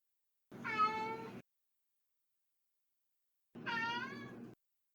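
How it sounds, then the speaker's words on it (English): A cat meows twice, two drawn-out, tonal calls about three seconds apart, fairly close and clear against near silence. "There's a cat somewhere. Okay. I hear it."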